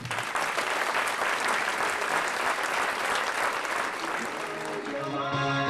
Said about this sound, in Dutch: En een groot applaus voor Twan natuurlijk.